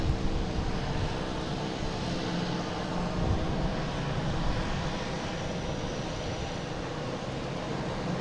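A Delta Airbus A321 airliner arriving from Minneapolis at Boston Logan produces a steady, low jet rumble that stays even throughout and sounds moderately distant, with no talking.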